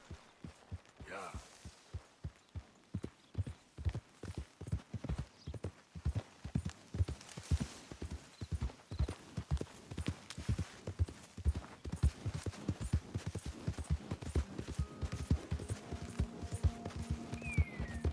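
Steady clip-clop of horse hooves walking on hard ground in the Western video game Red Dead Redemption 2, a regular rhythm that grows busier and slightly louder toward the end, with faint game ambience underneath.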